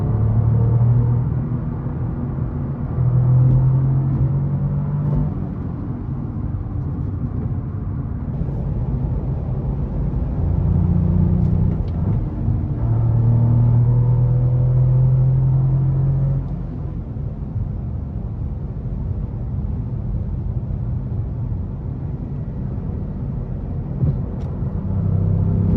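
A Cadillac CT4-V Blackwing drives a mountain road, its engine droning low inside the cabin and surging through repeated hard accelerations, each climbing in pitch and loudness before easing back to a steady cruise.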